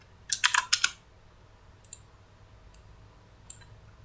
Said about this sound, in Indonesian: ketikkan lambang dolar